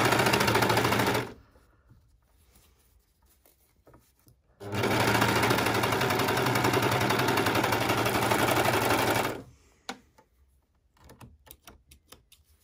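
A sewing machine stitches a T-shirt shoulder seam in two fast, buzzing runs, a short burst and then a longer steady one, with quiet pauses and small handling clicks between them, close and clear.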